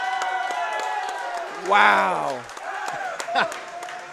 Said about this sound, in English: I'm just going to keep clapping.